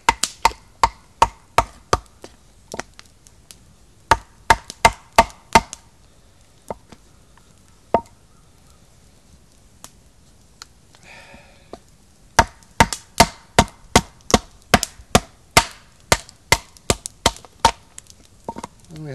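A Kellum Fang blade chops into a knot in a hardwood piece, striking sharp, close wooden thwacks in quick rhythmic bursts. A long quiet pause separates the bursts, and later runs of strikes come faster.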